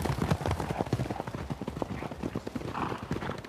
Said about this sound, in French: Actuellement, j'ai 2 chevaux, c'est 2 juments Franche-Montagne.